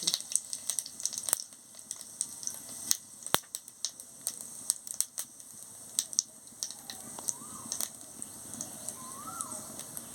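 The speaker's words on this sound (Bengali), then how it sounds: "গরম হয়ে গেছে, এবারে আমি তেজপাতা আর গোটা জিরে দিয়ে দিচ্ছি" Bay leaves and whole cumin seeds sizzle in hot oil in a pan, a steady hiss with scattered crackles and pops.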